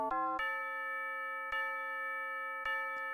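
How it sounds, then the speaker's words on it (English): Tubular bells in an electronic music remix ring out in a few spaced, sustained metallic strikes, bright and resonant, each decaying slowly under the next. "And then decided I wanted to add tubular bells."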